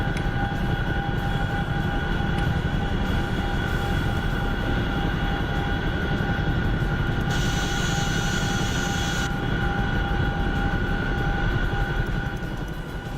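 Loud, steady rotor and engine roar of a Chinook helicopter in a flight video game, a dense unbroken drone with strong tonal hum that holds at constant level throughout, with no voices.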